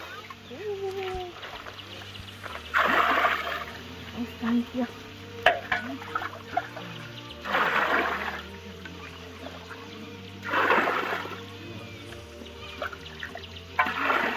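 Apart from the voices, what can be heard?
hot salt water being collected and splashing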